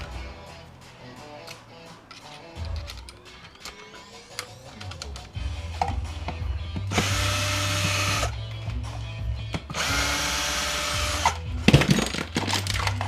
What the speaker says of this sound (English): Actually, I can get these screws out.